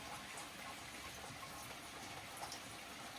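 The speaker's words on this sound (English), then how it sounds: "So it's absolutely pouring down." Heavy rain pouring down outdoors on a wet morning, a dense, steady rushing wash with no let-up, loud and close throughout.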